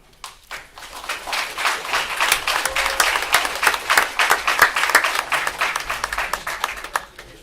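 Applause at a city council meeting for a youth program group: scattered claps build quickly into moderate, evenly paced clapping from a modest crowd, then thin toward the end.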